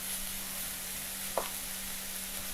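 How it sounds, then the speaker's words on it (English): Muffin-cup meatloaf ingredients sauté in a hot pan with a continuous, even sizzle and hiss, broken once by a single brief clink of a utensil partway through. "then we want to saute this for about 5 minutes"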